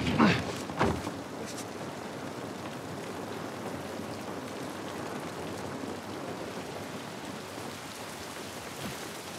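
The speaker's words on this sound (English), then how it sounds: "This rain ain't gonna do us any good." Rain falls steadily in an outdoor scene in the video game The Last of Us Part I, a dense even hiss of drops on surfaces, with a brief louder splash or shuffle at the start.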